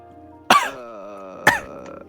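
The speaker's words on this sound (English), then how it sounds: "now I'm coughing a lot." A person with a cough coughs twice, about a second apart. Each cough is a sharp, close burst with a short rough tail in an otherwise quiet room.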